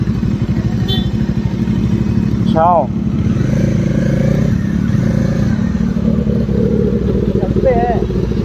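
A big motorcycle engine, likely a Dominar 400 or ZX-10R, idles and revs loudly and steadily up close at a highway parking spot, running continuously beneath a voice.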